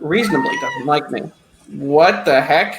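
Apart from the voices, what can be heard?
cat meowing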